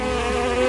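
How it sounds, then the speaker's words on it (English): Continuous close, loud buzzing of a bee's wings, a steady droning hum with no other sounds. "bee."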